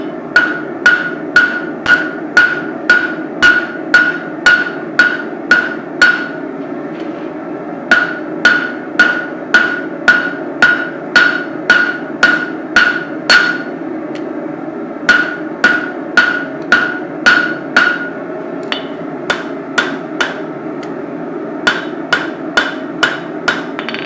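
A blacksmith drawing out a hot knife blade with a straight peen hammer on an anvil, loud close ringing strikes in quick rhythmic bursts of about ten to twelve blows separated by short pauses, no talking.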